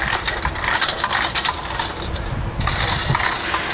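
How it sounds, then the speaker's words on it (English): A spring-driven Coxreels hose reel winds a garden hose back in, giving a continuous rattling, clicking whir with scraping and knocking that runs throughout, close and fairly loud. "let the reel spring wind up my hose for me"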